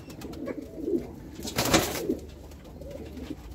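Ankara Matbaacı tumbler pigeons coo softly in a few low, throaty phrases against an outdoor background hiss, with one brief louder flutter of sound in the middle.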